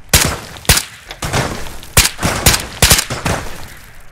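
Bursts of video game gunfire crack out in an uneven series of about eight loud, close shots and short volleys, with gaps between them and no talk.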